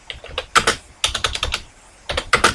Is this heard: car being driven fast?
no